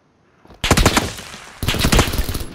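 Two loud, close bursts of rapid automatic gunfire in the video game PUBG (PlayerUnknown's Battlegrounds), each lasting about a second, separated by a short gap.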